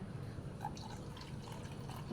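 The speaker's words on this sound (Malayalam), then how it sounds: "വെള്ളം ഒഴിച്ചു" Water poured quietly into a glass, a soft continuous trickle with faint gurgling.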